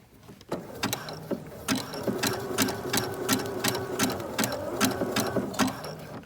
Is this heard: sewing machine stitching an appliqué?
yes